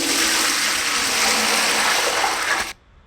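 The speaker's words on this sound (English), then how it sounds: "So here is a BBC sound effect. Emptying metal bucket of water into sink." A metal bucket of water is tipped out into a sink, a steady loud rushing gush lasting about two and a half seconds before cutting off abruptly into near silence.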